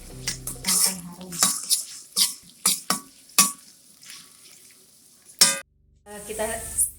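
Spice paste sizzling in hot oil, with a spoon scraping and stirring the pan in repeated strokes, close and fairly loud.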